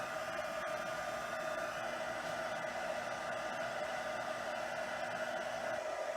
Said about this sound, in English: my heat tool in. So I'm going to be making a little bit of noise.